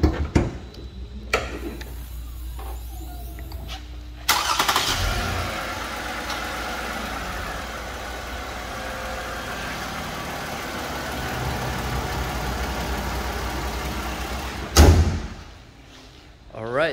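A garage-kept 2016 Toyota Avalon engine starts with a sudden burst and settles into a steady, moderate idle, with a person talking over it and a sharp thump near the end.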